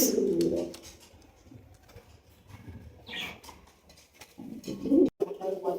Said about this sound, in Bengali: চমৎকার এক জোড়া বিশাল সাইজের লাখা কবুতর সংগ্রহ করা হয়েছে